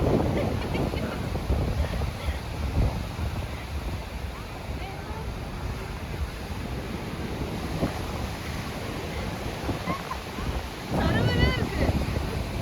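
A large fishing boat heads out to sea under steady wind and the wash of surf, with a low engine rumble blended into constant buffeting air noise. A louder gust rises near the end.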